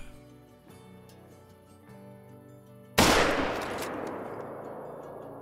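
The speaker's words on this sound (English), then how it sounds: "Why don't we take a shot at this female in the front first, and we'll put a follow-up in the big male after that." A single loud rifle shot in the hunting video game Call of the Wild cracks out over quiet ambient game sound, its sharp report then decaying slowly into a long rumbling tail.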